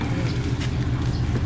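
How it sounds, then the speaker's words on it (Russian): A tractor carries passengers along a shellfish-hunting shore in Korea, giving a steady, low engine drone with a rhythmic chugging pulse that stays close and unbroken, with no voices over it. "Мы на тракторе едем, товарищи."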